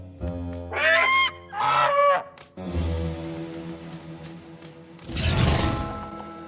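Geese in a cartoon scene give two loud, close honking calls one after the other. A broader rushing burst of noise follows.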